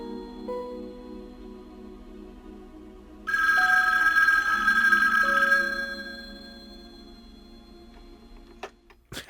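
Telephone ringing in a scene from the film Chinatown: one loud, bright ring lasting about two seconds, with a soft tonal score before and after and a faint click near the end, with no talk.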